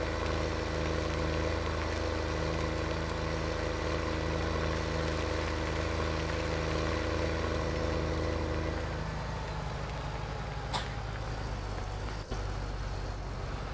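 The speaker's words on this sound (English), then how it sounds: "And I suppose we better refuel this tractor here first." Tractor engine idling in the video game Farming Simulator 17, a steady loud low rumble with layered tonal hum that shifts to a rougher, grainier texture partway through, alone without talk.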